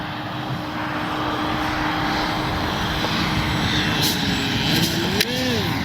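Steady buzzing drone of a Skynetic Dragonfly RC model airplane engine in flight, fairly close and continuous, with a brief pitch swoop near the end as it passes.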